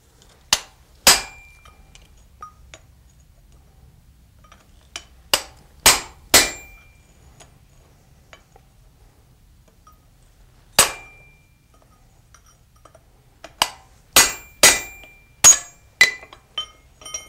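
A hammer striking a piece of aluminum with a V cut in it to split it open at a blacksmith's bench, sharp ringing metallic blows in short clusters with long pauses between them.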